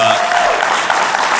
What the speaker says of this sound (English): with the round of applause